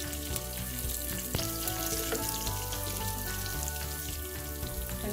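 Masala for a spicy seer fish chilli fry sizzles steadily in a pan, a dense, even crackle with an occasional soft knock and a low hum underneath, no voices.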